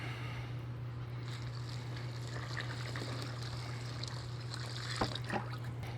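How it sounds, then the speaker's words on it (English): Liquid trickles and splashes into a mortar tray of worm bedding while hands stir it, with a soft continuous wet sound over a steady low hum and a few slaps near the end. "we just pour this liquid into our mortar tray full of bedding and start getting dirty with"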